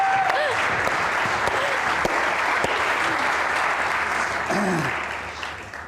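A studio audience at an interview show applauds in a dense, steady burst of clapping that fades toward the end, with a voice briefly heard over it.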